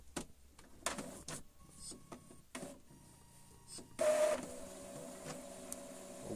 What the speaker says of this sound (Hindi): देखें ये घूम रहा है, प्रिंटर चालू हो गया है, देख सकते हैं।